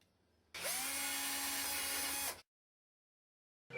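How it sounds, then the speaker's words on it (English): A power drill whines loudly at a steady pitch for about two seconds while drilling holes in stainless steel saddles, then stops abruptly, followed by silence. "Once you have completed the drilling"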